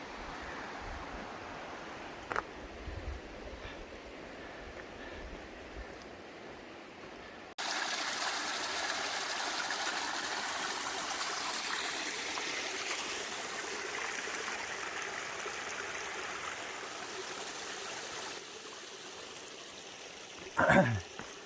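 A small stream runs steadily beside an Appalachian Trail path about a mile from Lost Mountain Shelter, a soft continuous rushing that grows fuller partway through, with a few brief knocks and footstep-like bumps.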